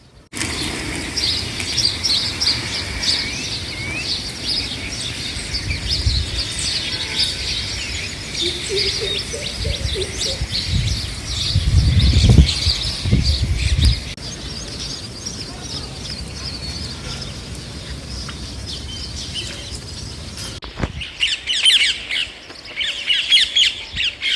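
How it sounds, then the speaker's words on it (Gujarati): Harsh squawking bird calls repeat over a noisy outdoor background, with a low rumble midway and a few sharper calls near the end. "જો તમે સાંભળો સાઉન્ડ અત્યારે પક્ષીનો."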